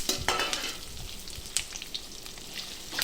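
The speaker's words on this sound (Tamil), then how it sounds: "நல்லா இது மாதிரி நல்லா கிண்டி விட்டு வதக்கிக்கலாம்" Shallots and curry leaves sauté in hot oil, crackling and sizzling up close, with repeated clattering strokes of a spoon stirring through the pan.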